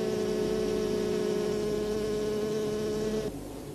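Honeybees inside their hive make a dense, steady buzzing drone, close and continuous, with no voices.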